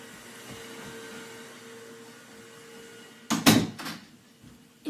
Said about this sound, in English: I'm just going to shut that door.